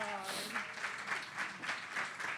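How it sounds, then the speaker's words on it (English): A short burst of soft applause with a quick, even clapping rhythm follows a brief voice at the start. "A round of applause."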